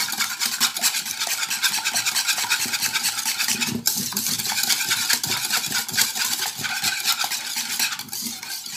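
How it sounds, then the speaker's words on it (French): Sugar and eggs are beaten together in a bowl, producing a fast, continuous rhythmic scraping and clinking of a whisk against the sides, close and steady throughout with no speech. "on mélange le sucre et les œufs"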